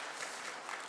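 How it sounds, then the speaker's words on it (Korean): Church congregation clapping during a Sunday worship service at a Korean Presbyterian church in New Jersey: a brief, dense wash of many hands, steady and moderately distant, with no voices over it. "우리 한번 다시 박수로 격려하시겠습니다"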